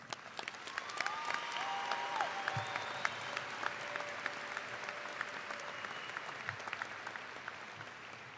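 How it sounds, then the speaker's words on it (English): A large audience claps in a steady, sustained round of applause at a high school graduation ceremony, heard from some distance in a big hall, with a few faint voices mixed in. "Let's honor his memory with a warm round of applause."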